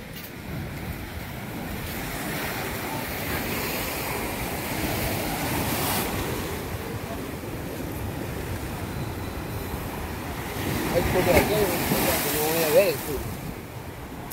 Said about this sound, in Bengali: আর এখানে সমুদ্রে কিন্তু প্রচুর ঢেউ হচ্ছে।